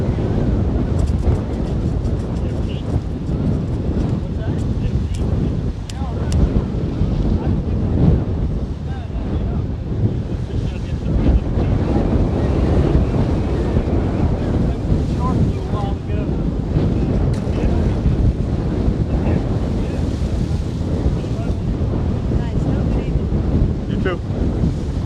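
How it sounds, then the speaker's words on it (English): Ocean waves wash against the south jetty at Venice, Florida, at sunset, a steady loud roar of surf with heavy wind buffeting the microphone and faint voices mixed in. "A lot of waves."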